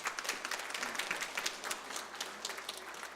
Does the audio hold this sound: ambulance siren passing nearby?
no